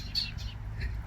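Small bird chirps, a sparrow, come as short high calls at a campsite where firewood is cut with a chainsaw. They sit over a steady low engine-like rumble.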